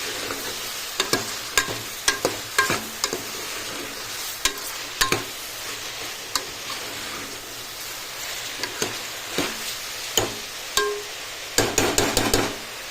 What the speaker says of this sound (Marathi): आणि मातशें अशें ढवळून घेवन मातशें 5 मिनटां खातीर शिजत दवरपाचें